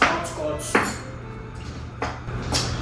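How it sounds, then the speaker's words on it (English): A knife chops and minces food on a cutting board, giving a handful of sharp, irregular wooden knocks up close over a low steady hum. "Just cut it up any direction you want because you're trying to mince it"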